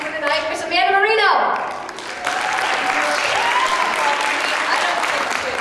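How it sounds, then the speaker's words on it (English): An audience at a high school improv show claps, dense applause throughout, with a voice talking over it near the start before the clapping carries on alone. "You should applaud for them."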